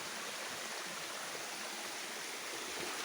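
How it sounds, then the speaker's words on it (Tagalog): A creek swollen with strong water after Typhoon Auring flows with a steady, even rushing hiss, close and continuous throughout without breaks. "Malakas ang tubig kasi may bagyong auring na dumating"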